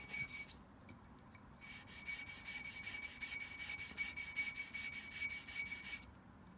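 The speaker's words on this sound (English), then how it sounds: "So I have found that sharpening this razor blade" A razor blade is sharpened on a diamond stone while shaping oboe cane: a steady run of quick, rhythmic back-and-forth rasping strokes, close and fairly loud, after a brief stroke and a pause at the start.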